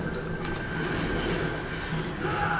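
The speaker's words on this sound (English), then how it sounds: "your bell sounds like a train" A hunting bell from the Monster Hunter 3 Ultimate video game rings as a steady rumbling, train-like drone with a sustained whistling tone, continuous and moderately loud for a couple of seconds with no speech.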